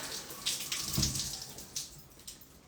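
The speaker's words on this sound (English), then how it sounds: "But I'll wash my hands first." A running tap pours steadily into a sink as hands are washed beneath it, with soft splashing and gentle water noise, close and moderately quiet, no voices.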